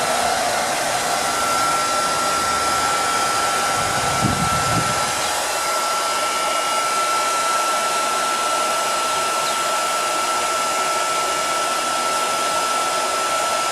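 A heat gun blows steadily on faded plastic mower trim, a constant loud whooshing drone with a thin whine that holds unbroken for over ten seconds, close by.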